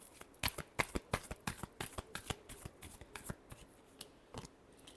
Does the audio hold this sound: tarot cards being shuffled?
yes